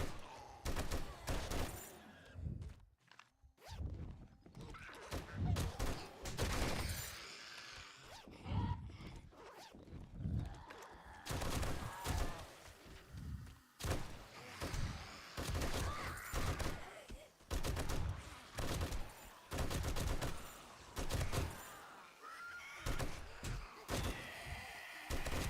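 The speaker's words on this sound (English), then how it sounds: "it's time to pull out the machine gun" Rapid bursts of machine-gun fire from 7 Days to Die, Darkness Falls mod, come in dense, repeated volleys with short gaps, loud and close throughout.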